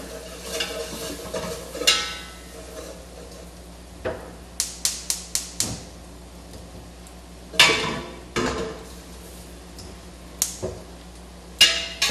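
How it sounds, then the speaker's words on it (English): Food stirred constantly in a hot pan on a stove, with a low continuous sizzle broken by repeated sharp scrapes and clacks of the utensil against the pan in an irregular rhythm, no talking. "Stirring constantly so that it doesn't burn."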